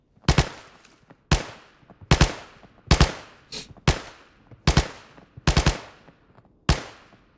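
Gunfire in Arena Breakout: sharp, loud shots and short bursts ring out one after another at uneven intervals, each crack followed by a brief echoing tail, with no talk.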